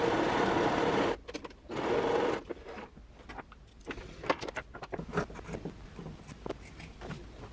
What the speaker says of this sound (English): I'm folding this down and I'm gonna just sew a top stitch